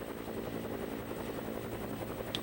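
A helicopter flies over Sullivan's Island, heard as a steady, dense rotor and engine rumble at moderate distance with no voices.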